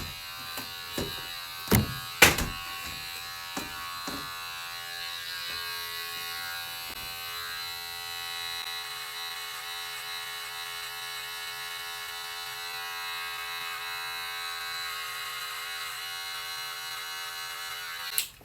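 A Wahl Sterling 4 cordless hair clipper, running at about 9,000 RPM, cuts hair in a steady close buzz after a few sharp clicks and knocks at the start, with no one speaking.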